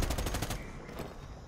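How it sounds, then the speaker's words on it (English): Machine gun fire rattles in a rapid, loud burst in a video game, then cuts off into a decaying echo. "I'm using a machine gun."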